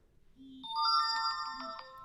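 An incoming call rings on a CAT S22 Flip phone, a clear melodic ringtone with rising chiming tones, close and steady with no talking.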